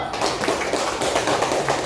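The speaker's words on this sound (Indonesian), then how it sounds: "Tepuk tangan untuk kelompok dua." Classroom applause for a student discussion group, a steady dense patter of many hands clapping close by, sustained and even for the whole stretch with no voices over it.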